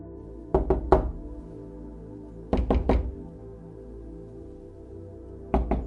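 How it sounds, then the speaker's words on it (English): Groups of quick knocks rap on a door, three at a time, separated by pauses, with a final brief knock; fairly soft and nearby. "I heard a soft knock at the door."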